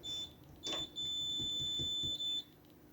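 An electric cooktop switched on in a home kitchen gives a short high beep, then a long steady electronic tone and a final brief beep, with faint clatter underneath.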